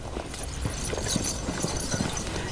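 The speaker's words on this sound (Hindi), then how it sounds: "कुछ घोड़े सवार इस तरफ आ रहे हैं।" Horses with riders approach, their hoofbeats a steady, fairly dense clip-clop heard at moderate distance over background noise.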